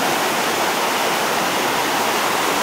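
Rushing stream water pours steadily where a small creek meets a river at a Norwegian campground near a waterfall and glacier, a dense, continuous close roar with no other sounds.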